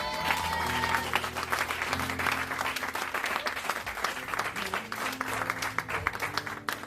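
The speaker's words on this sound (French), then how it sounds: "On acclame très fort Jésus." A church congregation applauds and cheers for Jesus during a 2023 Transfiguration gathering, with dense, steady clapping that fills the room throughout, some voices rising in the crowd, and a sustained music tone underneath.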